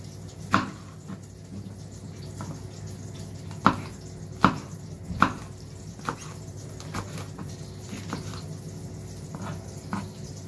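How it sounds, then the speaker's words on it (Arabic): Knife slicing hot peppers, bell peppers and small local peppers on a board, producing a series of crisp, irregular close taps and cuts over a quiet room hum. "فانا بقطعه زي شرايح كده"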